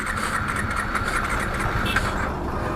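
A 2020 KTM Duke 390 BS6 motorcycle engine is cranked and fails to start, giving a steady, continuous mechanical whirr at close range with no clean catch.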